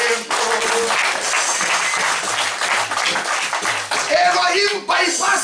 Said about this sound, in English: Oh, clap for Elohim.